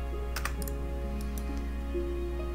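Quick bursts of keystrokes on a computer keyboard, a few clustered clicks near the start and scattered lighter taps after, over a steady low hum.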